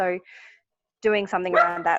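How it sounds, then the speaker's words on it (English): Cavoodle dog yapping in a few quick, close barks, partly overlapping a person talking indoors. "Sorry about the dog."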